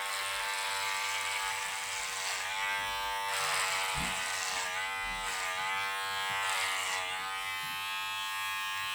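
Electric hair clippers fitted with a number 4 guard buzz steadily through a haircut, a continuous close whine with slight swells as the blade moves across the top of the head.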